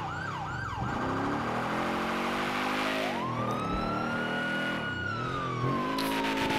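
Police sirens wail and yelp loudly in a GTA 5 LSPDFR police patrol mod, the tone sweeping up and down in rapid cycles over a steady engine rumble, continuous and close.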